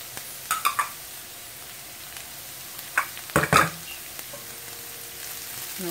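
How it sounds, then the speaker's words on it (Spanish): Fried potatoes with bell pepper and green onions are stirred in a pan for a Spanish tortilla, with scattered scraping clatters of the utensil over a faint, steady sizzle. "Vamos a mezclar muy bien."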